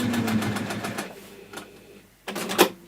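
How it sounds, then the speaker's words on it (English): A sewing machine runs in short stitching bursts while a harness bag is sewn, with a steady run at first, then a pause and a brief louder burst near the end. "We're going to sew on that line."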